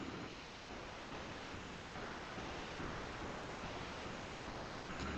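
Water poured into a hot pan of roasted vermicelli for semiya kesari, two cups of water to one cup of vermicelli, makes a loud, continuous rushing splash that holds steady for about five seconds with no talk.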